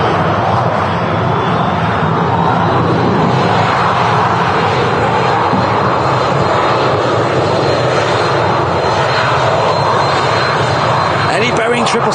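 An EasyJet A320 arriving from Milan roars steadily overhead at Manchester Airport as it comes in to land, a loud continuous engine rumble that fills the whole stretch without break.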